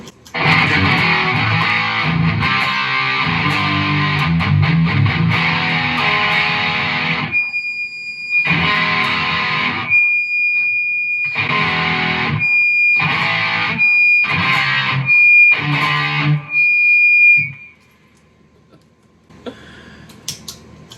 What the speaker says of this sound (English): having the overdrive with, you know, a high gain distortion pedal